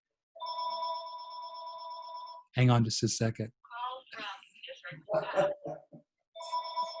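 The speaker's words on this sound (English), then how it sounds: "oh, my phone's ringing" A mobile phone rings with a steady electronic ringtone of repeated tonal bursts, pausing while a person talks over it briefly and then starting again.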